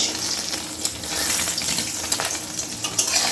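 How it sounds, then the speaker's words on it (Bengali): An egg poach fries in deep oil with a pinch of turmeric, a close, continuous bubbling sizzle with small spattering pops throughout and no voices. "পুরো ছাঁকা তেলে পোচ ভেজেছি একটু সামান্য হলুদ দিয়ে"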